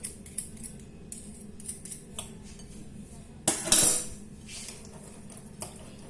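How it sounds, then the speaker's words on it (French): Utensils stir and toss a pasta salad with oil dressing in a bowl, making soft scraping and clinking sounds. Near the middle comes one louder burst of clatter, with quieter intermittent clinks before and after. "Et après, je vais mélanger tout ça."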